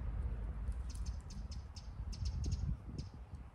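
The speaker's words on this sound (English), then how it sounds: "That sounds like a wren's panic signal, doesn't it?" A wren gives a panic call in a garden, a string of sharp, high chirps repeating every fraction of a second over a steady low rumble of background noise.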